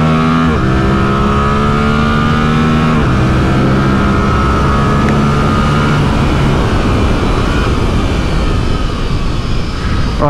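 A Yamaha R7 motorcycle accelerates in second gear on a race track, its engine note loud, close and continuous, climbing steadily in pitch throughout.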